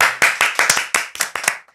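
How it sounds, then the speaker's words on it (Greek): A few sharp hand claps repeat in an irregular sequence, about ten close, dry slaps that grow a little quieter and end abruptly. "Ένα χειροκρότημα."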